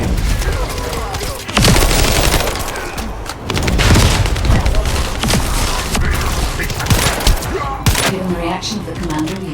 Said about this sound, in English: Turret engaged.